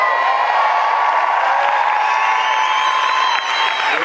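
A live comedy-show audience in France applauds and cheers loudly for the comedian Nino Arial, a steady dense roar of clapping and whoops that holds at full level and dips only slightly near the end.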